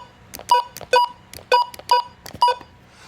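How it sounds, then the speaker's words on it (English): Five short, bright electronic button beeps from a version 15 HH weather radio, evenly spaced and loud, each a clean two-tone chirp with quiet clicks between them. "if you've ever owned a version 15 HH, and you notice the button beeps are just slightly off"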